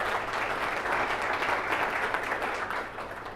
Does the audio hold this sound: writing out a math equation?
no